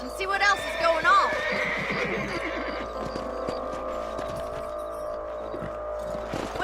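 In Red Dead Redemption on Xbox 360, a horse whinnies loudly near the start. A steady hum and faint rhythmic clicks, like hooves, continue behind it.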